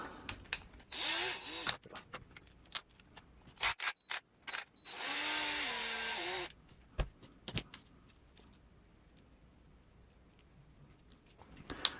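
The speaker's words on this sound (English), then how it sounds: "Should probably be okay to use a driver on this." A power driver turns on the axle of a Boom Racing BRX02 Land Rover Series III 88 RC truck in one short whirring burst of about a second and a half, among scattered clicks and handling of small parts.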